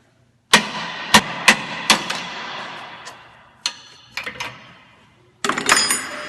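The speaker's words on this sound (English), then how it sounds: "Now I'm going to tap on this end to get it out." Hammer taps knock the end of a steering damper loose on a Jeep Wrangler: a handful of sharp, ringing metallic strikes at uneven intervals, close and loud, closing in a cluster of rapid hits.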